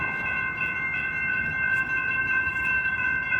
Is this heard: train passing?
yes